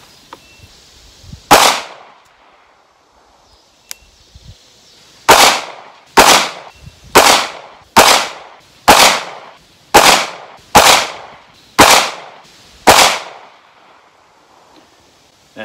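A PSA Micro Dagger pistol fires about ten sharp, loud shots, one early and then nine at a steady pace of roughly one per second, each followed by a short echoing decay outdoors.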